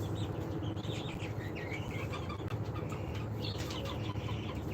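Crowded poultry-farm hens, about 47 days old and kept for laying eggs, keep up a constant overlapping clucking close by, a thick unbroken chorus of calls without any speech.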